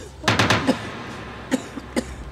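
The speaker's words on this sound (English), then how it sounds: "Why are you coughing?" Someone coughs in a quick burst of three or four harsh coughs, then two more isolated coughs follow after a pause, all close and fairly loud against a quiet indoor background.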